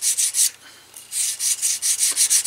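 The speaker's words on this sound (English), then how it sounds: "now I'm going to try to sand it so I can even everything out" Sandpaper rubs over the burnished leather handle of a vintage tool chest, making close, brisk back-and-forth strokes in quick rhythmic bursts with a short pause partway through; no one speaks.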